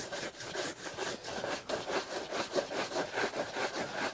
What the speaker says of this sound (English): buffing